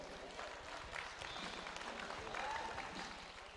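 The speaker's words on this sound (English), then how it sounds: "Let's give him a big round of applause." An arena crowd at a boxing event applauds the presentation of a golden trophy to the winner, a dense, steady clapping that swells slightly midway, with faint talk underneath.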